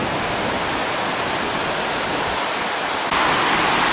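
A waterfall at Doi Inthanon National Park in Thailand roars as a steady, dense wash of falling water, loud and close, with no voices.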